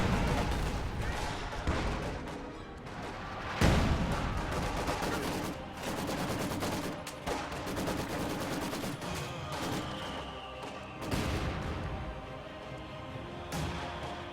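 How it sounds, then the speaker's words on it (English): A high explosive artillery barrage falls over a hedge onto snipers in a Company of Heroes battle, with repeated heavy booms and blasts amid rattling gunfire, one strong impact standing out early and the rest rolling on. "Incendiary round on the Maxim. And high explosive barrage over the hedge on those snipers."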